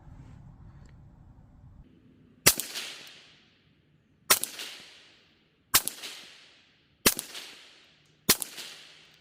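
Five sharp rifle shots firing Federal .22WMR rounds crack out at steady intervals of about one and a half seconds, each with a short ringing decay, after a quiet low background hum.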